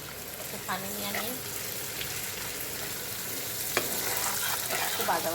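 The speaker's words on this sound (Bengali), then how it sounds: "একটু ভাজা ভাজা হচ্ছে" Hilsa fish pieces with garlic and salt frying in a pan give a steady close sizzle and hiss, with light stirring scrapes and a faint voice in the background.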